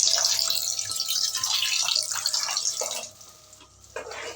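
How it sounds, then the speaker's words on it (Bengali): About a cup of warm water is poured into fried spices releasing oil in a pan for an egg curry, making a close splashing, bubbling pour that fades near the end, then a brief splash. "এই পর্যায়ে এর মধ্যে অ্যাড করে দিচ্ছি উষ্ণ গরম জল"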